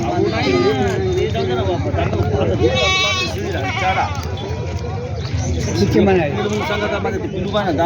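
Goats bleat repeatedly amid a busy crowd, with people talking loudly all around in a noisy outdoor goat market in Akhara Balapur.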